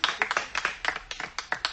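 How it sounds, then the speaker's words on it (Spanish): Audience at a Maya cultural festival applauds two young performers, with dense, sharp hand claps in quick irregular bursts, fairly close and loud. "Fuerte los aplausos para estos dos jóvenes muy talentosos"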